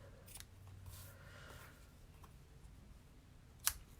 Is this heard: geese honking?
no